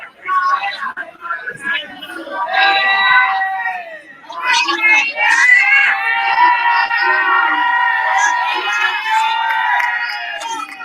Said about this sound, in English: And the people are cheering him.